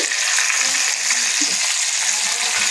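Food sizzles steadily in a pan of hot oil during a small barbecue-style cook, a constant close crackle with a few faint clinks.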